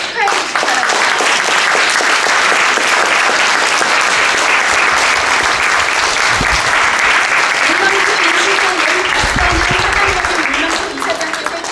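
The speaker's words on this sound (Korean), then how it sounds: "큰 박수로 축하해 주시기 바랍니다" A large crowd at a Korean commemorative award ceremony breaks into loud, sustained applause for an award recipient, continuous and dense throughout, with a voice briefly speaking near the end.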